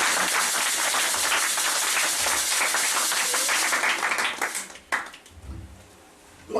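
A church congregation claps and acclaims the Lord in worship, a loud dense burst of applause that fades out near the end, followed by a brief voice.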